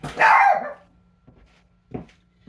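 A dog lets out one loud bark at sirens, followed by a couple of softer yips, in a quiet room.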